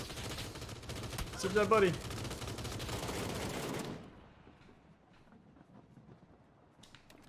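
Rapid automatic gunfire rattles loudly in PUBG, a sustained burst with a denser crackling peak, then cuts off abruptly and leaves quieter in-game ambience with faint clicks; a player speaks briefly over the shooting.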